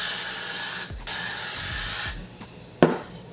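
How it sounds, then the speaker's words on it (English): Long steady bursts of hair freeze spray hiss during a wig install, several passes with brief pauses between them, ending with a sharp knock. "I like to do 3 layers of the freeze spray"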